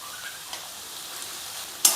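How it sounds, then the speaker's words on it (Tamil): Onions sauté in a pan with salt added, giving a steady soft sizzle and faint stirring throughout, ending with a sharp scrape of the spoon against the pan. "வெங்காயம் சேர்த்துருக்கோம் வெங்காயம் வதங்கட்டும்"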